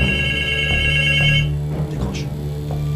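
A telephone rings loud and close, a steady electronic bell tone running for about a second and a half before cutting off, followed by faint background sounds.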